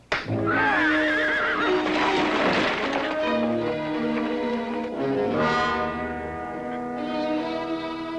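A horse whinnies loudly and close, a long wavering neigh that rises and falls, heard over a swelling orchestral score with a low rumble in a Western cavalry scene.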